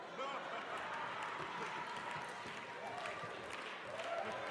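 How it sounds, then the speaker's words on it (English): A church congregation applauding at a Mother's Day service, a dense, distant wash of clapping from a large crowd with voices mixed in. "Y'all been clapping long enough."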